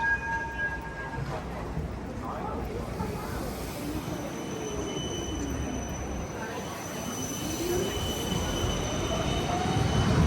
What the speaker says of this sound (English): Oh, more trams.